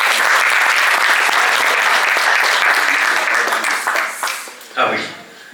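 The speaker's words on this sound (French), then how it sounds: "je voudrais qu'on applaudisse très fort pour lui" Loud, sustained applause from a seminar audience at a TotalEnergies event, thinning out near the end as a voice comes in briefly.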